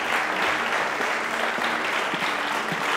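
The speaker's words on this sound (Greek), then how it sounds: "Ένα χειροκρότημα," Studio audience on the Greek game show Wheel of Fortune claps in a steady, dense burst of applause lasting the whole stretch, close and loud, with no talking over it.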